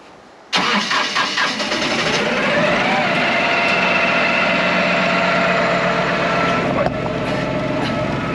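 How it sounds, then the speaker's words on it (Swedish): Swekip 2350 compact tractor engine cranking and catching abruptly, then settling into a steady loud diesel idle with a rising whine as it revs, heard up close without talk. "ska vi starta upp den och lyssna på den lite?"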